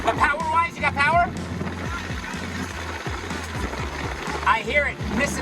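A Japanese mini truck's small engine misfiring while driving near top speed, a low, uneven thrumming with irregular missed beats under steady road and wind noise, with people talking over it at times.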